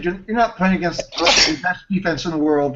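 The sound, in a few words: sneeze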